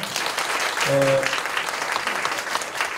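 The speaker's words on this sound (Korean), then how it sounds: "다시 한번 박수 쳐주시기 바랍니다" A seminar audience at a Korean church event gives a round of steady, close applause that fills the whole stretch, with a brief voiced sound partway through.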